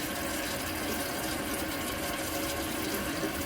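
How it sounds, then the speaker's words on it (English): Water runs steadily from a tap while rinsing a brush during glass etching, a continuous hissing splash at moderate level with no talking. "So let's turn the water on. Sorry if it gets a little loud."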